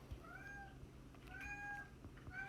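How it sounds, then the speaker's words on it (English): A house cat meows repeatedly and fairly faintly, three drawn-out calls spaced about a second apart over low room noise. "my cat keeps meowing"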